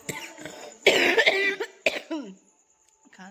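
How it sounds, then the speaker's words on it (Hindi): A woman coughs up close in a short, harsh burst of several coughs, followed by a brief throat-clearing rasp that fades into quiet. "खांसी वगैरह भी हो गया,"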